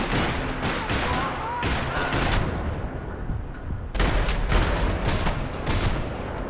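Gunfire in the video game Max Payne 3: rapid bursts of shots and fusillades crackle loudly across the clip, with a short lull before the firing resumes.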